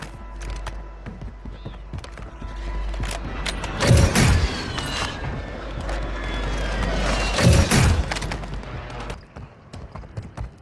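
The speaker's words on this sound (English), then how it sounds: "Friendly airstrike in the AO." Airstrike explosions in Call of Duty Warzone Mobile: two heavy booms a few seconds apart, each with a deep rumbling tail, over steady battlefield ambience and scattered shots.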